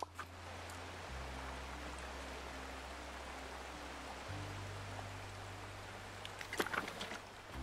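Steady rushing water from a waterfall beside a log in Disney Dreamlight Valley, a continuous wash of spray heard alone, with low game music tones shifting underneath and a few brief splashy ticks near the end.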